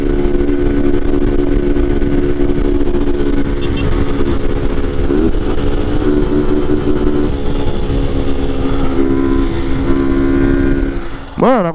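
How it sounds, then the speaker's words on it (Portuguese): A Honda Titan motorcycle with its original cam and exhaust races flat out in a street drag against a Start 160, its engine note droning loud and steady before a brief rev change near the end. "A Titan com o comando original, o escape original tá andando, hein?"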